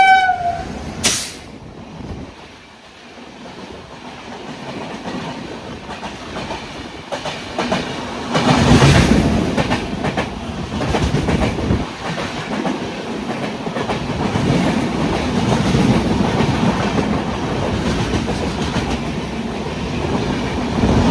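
A passing train rumbles by during an overnight Cocanada Express journey from Kakinada to Hyderabad in heavy fog, with a brief horn blast early on, then steady wheel clatter and rushing noise building loud and close for most of the stretch.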